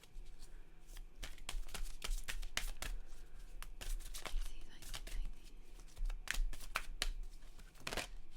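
Goddess Guidance oracle cards being shuffled up close in a rapid run of crisp riffling slaps and soft paper flutters, steady and fairly quiet throughout.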